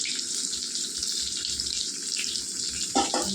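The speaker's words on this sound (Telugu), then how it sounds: "ఇందులోకి ఉల్లిపాయలు వేసేసుకుందామండి, పచ్చిమిరపకాయ కూడా వేసేసుకుందాం" Onions and green chilies frying in oil with curry leaves, a steady hissing sizzle with faint crackle and a couple of small knocks near the end.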